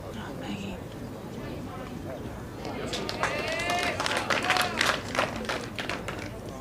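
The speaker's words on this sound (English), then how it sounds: "Round of applause we're hearing is for Nicole Irvie, that's just drawn a shot" A bowls match crowd breaks into a round of scattered applause partway through, while a commentator talks steadily over the clapping.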